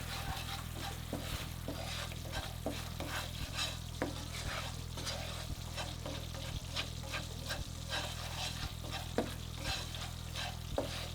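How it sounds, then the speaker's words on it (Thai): Coconut milk simmering in a pan for pork panang, bubbling steadily with a constant low hum and fine crackle, broken by regular stirring scrapes at about one-second intervals; no talking. "สังเกตดูได้ว่า ตามรูเดือดปุดๆอย่างนี้นะครับ จะมีน้ำมันแทรกออกมานะครับ"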